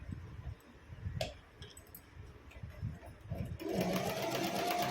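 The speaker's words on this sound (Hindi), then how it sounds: "इसको आइए हम इस तरह से यहाँ पे सिलाई लगा लेंगे।" Sewing machine stitching kurti fabric, running in a steady whir that grows louder and continuous in the last second or so after quieter handling sounds and clicks.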